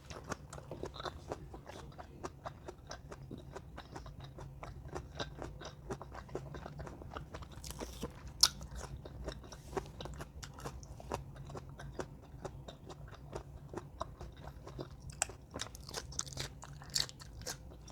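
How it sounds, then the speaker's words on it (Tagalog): Someone bites and chews hard, sour green mango during a spicy shrimp meal, giving a long run of close, crisp crunches with a fairly steady rhythm and a few sharper snaps, and no talk over them. "Dahil sa sobrang tigas ng mangga at saka super crunchy."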